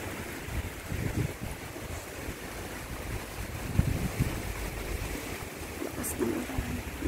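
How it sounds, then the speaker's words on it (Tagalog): Strong wind roars and buffets steadily during a typhoon, with a dense wash of rain-like hiss underneath, loud and continuous throughout. "Lakas ng ulan, lakas ng hangin."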